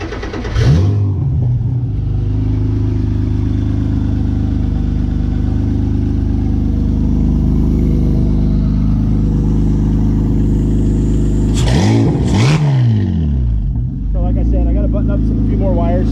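A Subaru J35 swap engine in an ultralight aircraft cranks over and settles into a steady loud running drone, with a couple of sharp revs later on.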